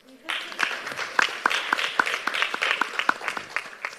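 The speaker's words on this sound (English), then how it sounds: "I also think we should be clapping for yourselves" A small group claps at an academic conference closing ceremony, sharp individual claps landing in a quick, steady rhythm for a few seconds, with faint voices in the background.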